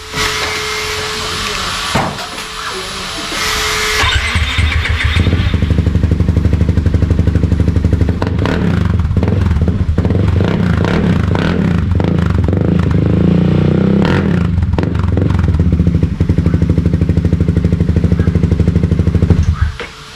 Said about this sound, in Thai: สตาร์ทรถให้ฟังหน่อย